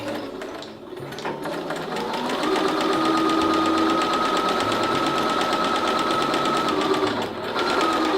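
A sewing machine stitches a fabric seam with a back tack, its motor whirring in a steady, close run that starts after a brief pause and holds for several seconds, with no talking.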